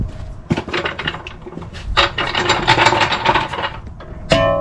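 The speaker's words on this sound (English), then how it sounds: "Tightening up my bolts" A ratchet tightening bolts on the front strut of a 2007 Toyota Camry LE: rapid clicking bursts of the pawl in several runs, loud and close, ending with a sharp metallic clank.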